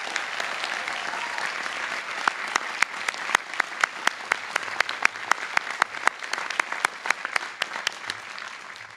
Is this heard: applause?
yes